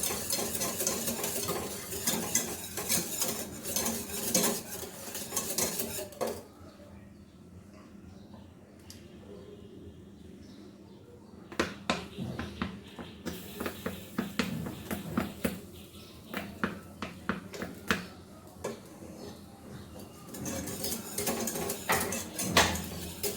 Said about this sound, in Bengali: আমি একটু দিব আবার একটু নাড়বো।